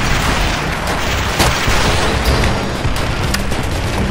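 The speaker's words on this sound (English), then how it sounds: "Come on, shoot at me ineffectually." Loud, continuous enemy gunfire and booming blasts fill a Call of Duty: World at War co-op battle, dense and washy with a few sharper impacts standing out, no talking.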